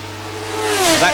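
Formula 1 cars race at the 1977 Dijon Grand Prix, with a high engine note swelling and rising in pitch as a car approaches, loud and close, carried under a commentator's voice.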